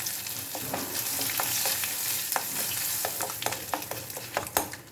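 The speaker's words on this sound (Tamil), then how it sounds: "அது மேலேயே கருவேப்பிலை போட்டுக்கலாம் அது மேலேயே பெருங்காயத்தூள் போட்டுக்கலாம்" Curry leaves and asafoetida sizzle in hot oil as a tempering for a white pumpkin buttermilk kootu, giving a steady close frying hiss broken by crackling pops.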